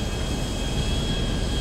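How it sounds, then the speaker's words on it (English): A jet plane engine in a racing video game roars as a steady, loud, broadband drone with a faint high whine, continuous and unchanging, without voices. "Well, at least you got a jet plane."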